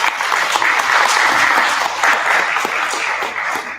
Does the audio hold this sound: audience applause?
yes